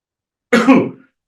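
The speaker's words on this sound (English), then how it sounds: "Sorry about the cough." One short, close, throaty cough from a man on a Q&A broadcast, a single burst breaking the silence.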